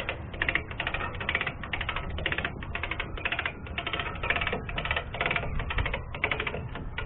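A come-along ratchet hooked by a shackle to a bumper is cranked tight, a fast run of sharp metallic clicks in rhythmic bursts, close and unbroken by speech.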